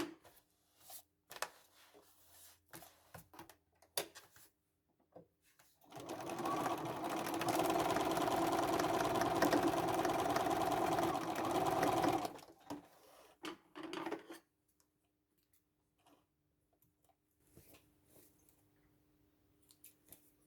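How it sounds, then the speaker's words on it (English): Sewing machine zigzag stitching a red velvet tote bag, a close, steady mechanical whir lasting about six seconds, framed by quiet handling and rustling. "I am going to zigzag that bit also."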